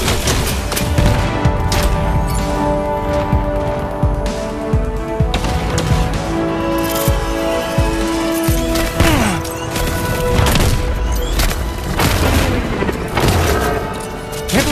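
In the video game Iron Man VR, repulsor blasts strike surface-to-air missiles in a loud, busy sequence of repeated shots, booms and crashing explosions close by, with swooping tones and a brief voice among the chaos.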